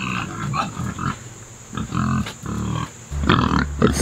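Pigs grunt in bursts near an electric fence on a farm, the irregular grunts and snorts close and fairly loud, with no talk over them.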